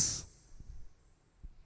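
A voice imitates a beatbox hi-hat with one short, crisp 'tss' hiss at the start, followed by faint room noise.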